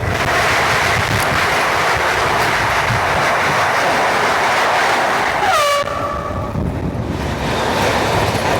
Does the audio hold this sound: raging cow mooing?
no